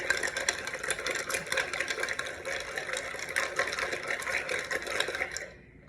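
An iced coffee drink is mixed in a mug or travel cup, giving a steady, dense whirring and rattling churn close by for nearly six seconds, then stopping abruptly with no talking.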